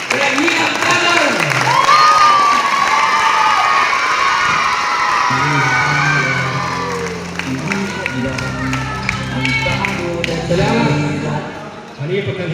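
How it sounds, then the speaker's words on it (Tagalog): A barangay crowd at a community feeding event in Santa Rosa, Balangiga, Eastern Samar cheers and claps with children shouting, loud and busy throughout, with people talking over it. "Bigyan natin naman sila ang palakpak"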